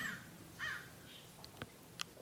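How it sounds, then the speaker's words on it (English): Crows caw outdoors, a few distinct calls spaced across the moment with sharper chirps near the end, moderately distant and alone without talk. "in spite of the sound of the birds"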